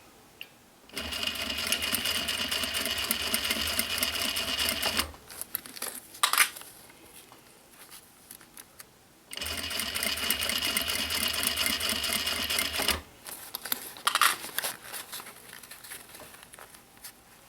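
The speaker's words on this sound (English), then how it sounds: "And I'm going to back stitch." A sewing machine back-stitching a recycled denim pouch runs in two long steady whirring stretches of about four seconds each, close up, with short clicks and handling noises between them and no talking.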